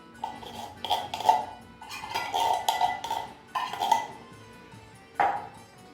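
Utensils clinking and scraping against a bowl while salad filling with corn and peas is mixed, a series of close, bright ringing knocks in uneven bursts, with no talking.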